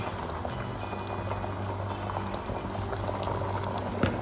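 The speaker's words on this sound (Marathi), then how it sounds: "हे तर थोडा वेळ उकळू देणार" A pot of Konkan green-masala fish curry bubbles at a steady boil, a continuous soft gurgling and popping of thick liquid, close by with no talking.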